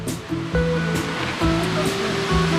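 Sathit waterfall in Kanchanaburi pours in a loud, constant rush of falling water, steady and close with a few bright splashes, under a faint recurring tonal hum.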